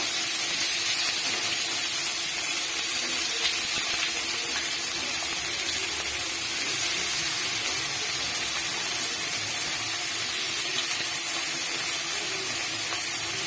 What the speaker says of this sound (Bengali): তেলের মধ্যে দিয়ে দেবো কেটে রাখা পেঁয়াজটাও আমি একই রকম করে ভেজে নামিয়ে নেব